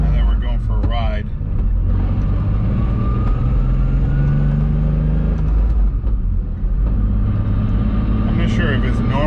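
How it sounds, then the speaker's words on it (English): A 750 whp BMW 135i with new transmission mounts rolls along with a loud, steady drivetrain rumble and whining transmission noise filling the cabin, while people talk over it. "the noise of the transmission is way louder"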